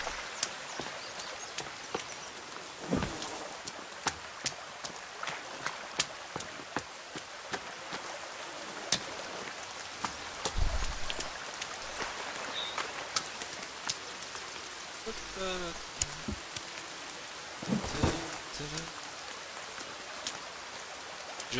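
Steady rain falls in The Forest video game, a dense hiss with scattered louder drops and occasional thumps throughout.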